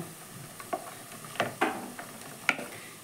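Cut yardlong beans stir-frying in a pan with carrots for fried rice, a low steady sizzle broken by a handful of sharp, close spatula taps and scrapes.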